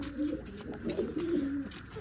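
Pigeons coo in low, rolling bursts close by, a soft throaty murmur repeating over faint background hiss.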